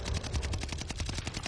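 Rapid automatic rifle fire in Call of Duty: Warzone, a steady stream of loud, closely spaced shots with heavy low-end thump and strong recoil, continuous across the whole stretch.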